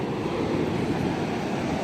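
Ocean surf washes steadily onto a sandy beach strewn with sand dollars, a continuous broadband roar with wind rumble and no clear individual wave breaks, fairly loud and unbroken.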